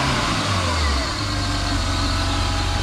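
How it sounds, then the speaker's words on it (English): A BMW M52 inline-six fitted with individual throttle bodies idles slightly high while still cold, a steady close drone with a low throbbing pulse that never lets up. "Now the engine's still a bit cold, so the idle will be a little bit high."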